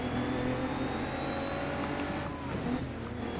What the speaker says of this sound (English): Let's just put our finger full down on the throttle and drive